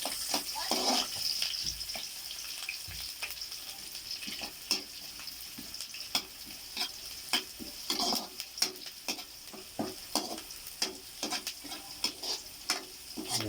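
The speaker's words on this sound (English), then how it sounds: "Okay, you can fry it in the oil, so at least it's gonna give more aroma." Onion and two bay leaves frying in oil in a pan for adobong sitaw, a low steady sizzle punctuated by regular spatula scrapes and knocks against the pan, with no speech.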